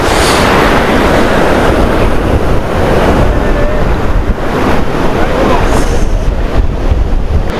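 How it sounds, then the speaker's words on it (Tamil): Ocean surf breaking on Thiruvanmiyur Beach in Chennai, a loud continuous wash of waves with heavy wind buffeting the microphone throughout; no clear talk, just steady roaring water and gusts. "அந்த தண்ணி நம்மள்ட்ட வந்து அப்படியே மோதும் போதும்"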